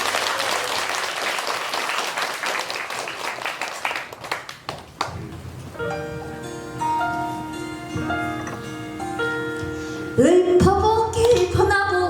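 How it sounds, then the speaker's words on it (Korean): Loud applause from an audience ahead of a Korean traditional (gugak) song performance at a Buddhist dharma assembly, dense clapping that fades after a few seconds as instruments begin playing. "큰 박수와 많은 환호 부탁드립니다"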